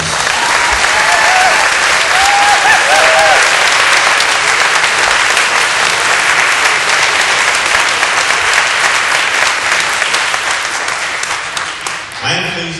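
Crowd applause at a mayor's Senate campaign announcement, greeting his mother: loud, dense clapping and some cheers that hold steady, then taper off abruptly at the end.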